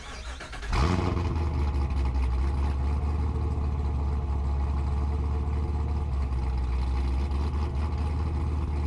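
A Chevrolet Corvette C7 Grand Sport V8 with Borla exhaust, Kooks long-tube headers, high-flow cats and a cam fires up after a brief quiet moment, then holds a loud, steady, rumbling idle close by with no talking.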